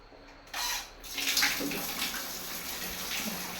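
Water gushes from a tap for a bath, a close, steady splashing rush with a brief louder surge near the start.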